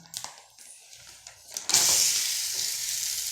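A hand-patted ragi adai roti is laid on a hot dosa griddle, a few soft taps and scrapes giving way to a sudden loud, steady sizzle that continues close by.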